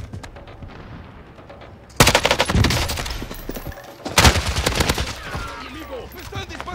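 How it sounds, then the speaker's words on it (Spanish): Rapid automatic gunfire in the Warzone video game, loud close bursts of machine-gun shots in two sustained volleys with quieter game sounds between them. "¡Me están disparando!"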